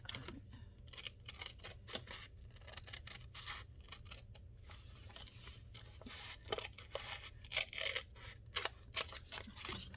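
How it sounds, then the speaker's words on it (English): Scissors snip repeatedly through paper, a series of quick, close crisp cuts with brief pauses between them, growing slightly louder toward the end. "use my scissors here to cut that away"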